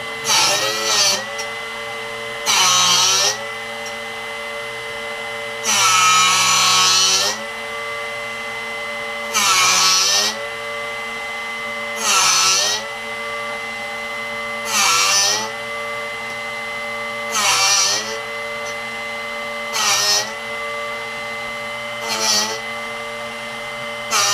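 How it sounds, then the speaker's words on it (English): A Drill Doctor bit sharpener's motor hums steadily while a drill bit is ground against it in about eight short, loud grinding bursts, each a few seconds apart. "Now we will simply turn the unit on, place it in, and gently sharpen it."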